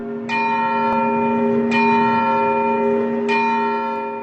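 Handbell struck at its strike point just inside the rim, three clear metallic strikes about 1.5 seconds apart, each ringing on with long sustained tones, close and loud with no talking.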